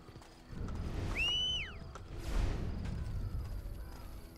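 A horse in the Assassin's Creed Brotherhood video game whinnies in a clear rising-and-falling call, followed by a whooshing movement sound and a low rumble of hooves over steady game ambience.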